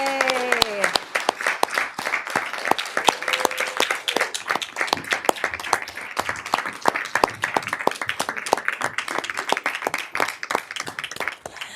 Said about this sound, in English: please stand and let us give you a great big round of applause